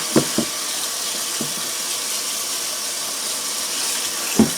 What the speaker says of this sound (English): now what I'm going to do is run some water in these.